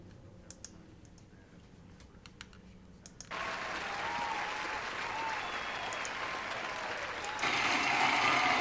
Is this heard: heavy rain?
no